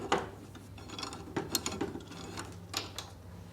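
A clamp cranked down on a firewall part in an aircraft build shop, a quick run of soft ratcheting clicks and small metallic ticks, close and fairly quiet.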